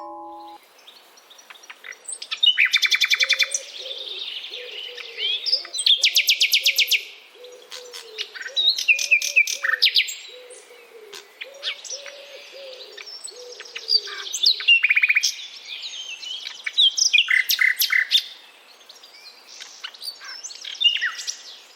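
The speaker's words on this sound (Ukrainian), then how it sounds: "Чий спів ви щойно прослухали? Так, правильно, солов'я." A nightingale sings alone in repeated phrases of rapid bright trills, clear whistles and sharp chirps, with brief pauses between bursts and a soft low cooing note running underneath for much of the song.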